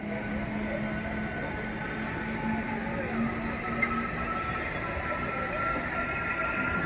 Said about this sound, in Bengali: এই ট্রেনটা ছাড়লো